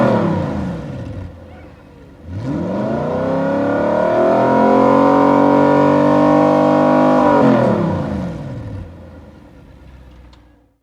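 An Audi R8 with a custom-built exhaust, valves open, revs up in one long sustained pull to around 6000 RPM, holding a loud, rich roar for several seconds before dropping back; no talk over it.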